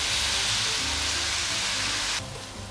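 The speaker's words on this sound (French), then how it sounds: "On ajoute un peu de vin rouge pour déglacer tous les sucs des légumes qui sont collés au fond de la poêle" Flour and vegetables sizzle loudly in a pan as red wine is poured in to deglaze, a dense close hiss that drops slightly near the end, with no talk.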